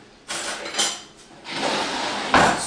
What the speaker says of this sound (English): I'm going to go and grab a spoon real quick.